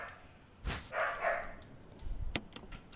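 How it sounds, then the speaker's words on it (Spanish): Household dogs bark nearby indoors during a Resident Evil HD Remaster play session, with a few loud, separate barks and yips over low background noise. "Ustedes disculpen mis perros."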